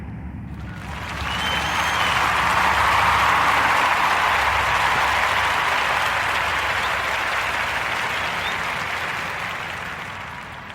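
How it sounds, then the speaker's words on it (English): Sustained audience applause for a podcast guest, with many hands clapping steadily and fairly loud for about ten seconds, swelling after the first second and tapering slightly toward the end, with no talking over it. "Round of applause for young Miss Korea Warren and her Just Be Hugh brand."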